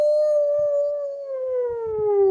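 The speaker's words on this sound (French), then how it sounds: "c'est un hurlement à la mort" A single long, loud, wavering howl like a dog or wolf, holding one clear tone that slowly falls in pitch, with faint low thumps beneath it.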